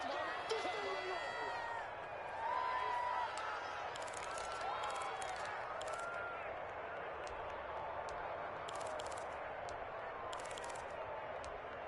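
Madden NFL 21 stadium crowd keeps up a steady, moderate roar through the whole stretch, with scattered claps and cheers rising at moments beneath ongoing commentary voices.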